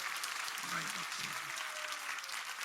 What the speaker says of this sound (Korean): Let's give him a round of applause of glory.